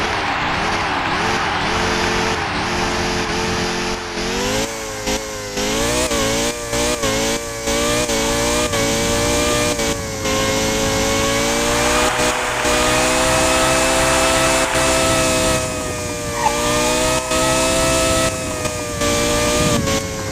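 Engines rev and whine continuously in a motorcycle racing video game, pitch rising and falling with repeated shifts and brief cuts, loud and steady throughout with no talking over it.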